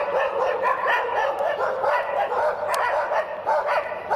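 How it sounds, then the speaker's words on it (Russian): Several dogs bark in a busy city-centre setting, a steady jumble of yaps and barks, loud and continuous over a background murmur, with a few sharper yips. "О, четыре собаки."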